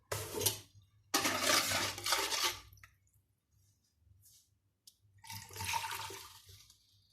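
Water poured into fruit juice for simple homemade wine gives two bursts of splashing pour, a brief pause, then a third steady pour after a few quiet seconds, with no talk.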